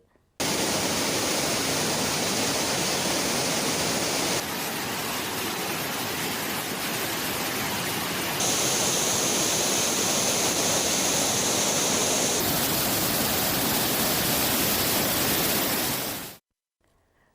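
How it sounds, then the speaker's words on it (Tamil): Suruli falls near Cumbum in flood, a loud, steady roar of heavily rushing water pouring down without pause, close and dense throughout, cutting off abruptly at the end. "கம்பம் அருகே சுருளி அருவியில் வெள்ளப்பெருக்கு ஏற்பட்டுள்ளதால் சுற்றுலா பயணிகள் நீராட தடை விதிக்கப்பட்டுள்ளது"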